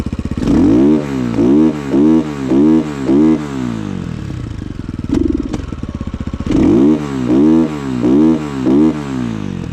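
A 2024 KOVI JNR 250 enduro motorcycle fitted with a silencer plug runs close by, its engine rising and falling in rhythmic blips of revving separated by a short pause.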